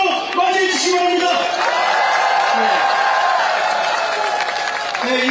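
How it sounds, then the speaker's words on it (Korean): Sustained applause and cheering from a crowd at Kim Moon-soo's presidential campaign rally in Changwon, a loud, dense wash of clapping and shouts running steadily throughout. "큰 박수로 맞이해 주시기 바랍니다"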